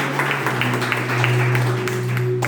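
A church congregation claps along for Jesus during a worship service: steady, dense hand clapping fills the room throughout, with a sustained low musical tone or hum droning beneath it.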